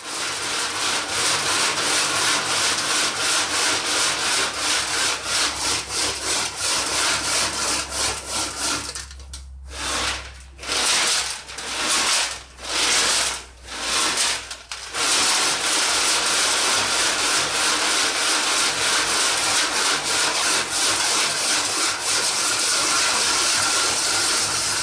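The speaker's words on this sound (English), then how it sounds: "put 5 cups of gravel down the fill port and shook the tank for about 25 minutes" Five cups of gravel shaken inside a rusty VW Baja Bug gas tank, a loud continuous rattling and swishing churn that briefly breaks into a few separate sloshing pulses before resuming steadily.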